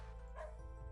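Undo Dog in the Mario Paint video game gives a short, bright yip-like bark, a single brief electronic dog sound close up over a low hum.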